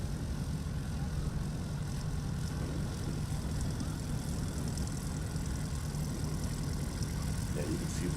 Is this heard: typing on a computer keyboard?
no